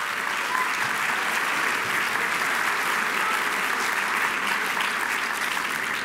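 A room full of union chapter leaders applauds former United Teachers Los Angeles presidents in dense, steady clapping that holds at an even loudness throughout.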